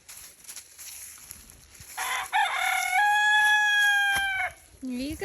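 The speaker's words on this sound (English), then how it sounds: "they were hungry little chickens apparently" Chickens being fed, with harmonic crowing and clucking calls rising in the middle and a lower call at the end, close and fairly loud over a faint background.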